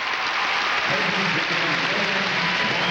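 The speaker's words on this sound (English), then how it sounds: "Get some applause from the leaders" Steady crowd applause at a gymnastics competition fills the clip, a dense continuous clapping wash with a commentator's voice joining partway through.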